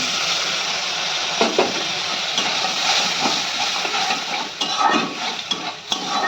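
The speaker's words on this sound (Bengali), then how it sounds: "মশলাটা ভালো করে কষিয়ে নেব।" Spice paste of cumin, coriander, chilli powder, sugar, salt and turmeric frying in a pan with paneer water, giving a steady hiss with soft stirring scrapes throughout.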